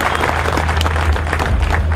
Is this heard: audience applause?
yes